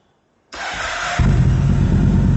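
A first-generation Yamaha MT-01 motorcycle with an Akrapovic exhaust fires up abruptly after silence, then settles into a loud, deep, steady idle rumble heard close up with no talking.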